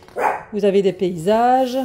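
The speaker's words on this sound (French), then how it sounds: "Je filme, il faut qu'il aboie, comme toujours." A dog barks close by in a few loud, drawn-out, whining barks, with someone talking in French at the start.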